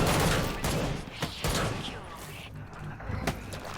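Gunfire from a weapon switched to single fire mode in the shooter game Killing Floor 2, dense and loud shots with mechanical clatter, heavy and continuous across the moment with a voice talking over it.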